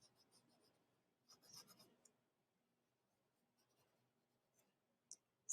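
Pencil or pen marks scratched onto paper while placing shapes at random, a few soft faint bursts of rubbing strokes separated by quiet gaps, with a couple of brief sharper scratches near the end.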